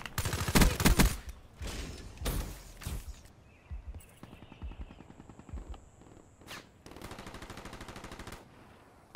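Automatic gunfire from the Black Ops 3 video game rattles out in several loud, rapid bursts separated by short gaps, with game effects in between.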